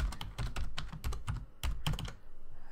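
Rapid, even keystrokes on a computer keyboard while typing a password for a BT Smart Hub 6, a close run of clicky taps ending in a final firmer press and quiet.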